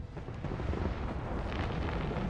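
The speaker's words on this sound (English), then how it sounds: "So now the fireworks are going off." Fireworks go off in the Hitman 2 video game, a dense, continuous rumbling roar of overlapping bursts that stays loud and steady throughout, with no talk over it.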